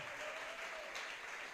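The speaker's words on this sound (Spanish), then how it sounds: "Dale un aplauso al que él se lo merece." Applause from a church congregation during a sermon, a steady dense wash of clapping filling the whole stretch at moderate level, with a faint tonal line beneath.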